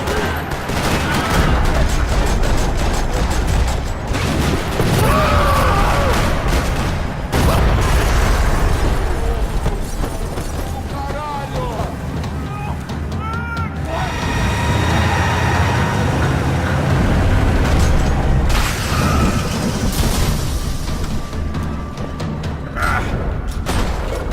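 Gunfire and explosions in the video game Max Payne 3, a parking-lot firefight with dense bursts of automatic fire, sharp shots and heavy booms going almost nonstop, loud and close throughout.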